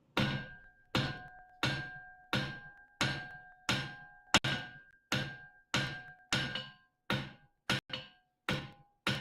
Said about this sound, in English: let's hit some metal for a minute, though